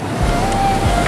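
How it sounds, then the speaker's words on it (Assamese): Sea wind gusts and rushes over surf at Marina Beach in Chennai, a constant loud roar with heavy wind buffeting right at the microphone and no voices. "আহি পালোঁ সাগৰ একদম ওচৰত আৰু দেখিছে বতাহ ইমান ধুনীয়া মাৰি আছে নহয়।"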